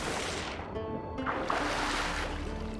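A boat moving on water in the video game The Witcher 3, heard as a steady, full wash of sloshing water and hull noise that runs loud and unbroken throughout, with no voices.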